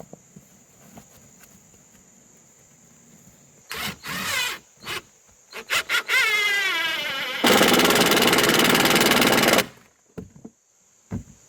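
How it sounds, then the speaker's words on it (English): Canvas skirting on a tiny-home glamping dome being cut, with a few short, crisp snips followed by a long, steady rasping tear through the fabric, close and loud with no talking. "we're having to cut some of the canvas skirting just to make sure that we can get it to lay the right way"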